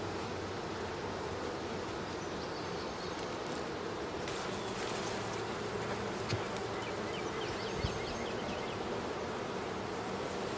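Honey bees buzzing around an open hive during a summer queenless hive inspection, a dense, continuous hum of many insects close by, steady throughout with no talking.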